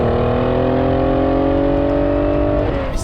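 A Ferrari 512BB flat-twelve engine drones loudly from inside the moving car, a steady rising harmonic tone that climbs smoothly then drops sharply near the end as the revs fall.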